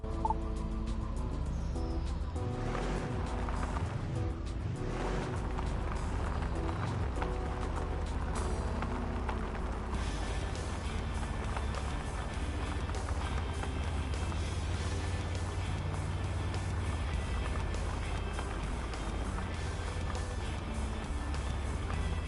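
A utility terrain vehicle driving off-road across rough terrain in the racing game Overpass 2. Its engine drone rises and falls in pitch early on, then settles into a steadier, continuous hum for the rest of the stretch, with no talking.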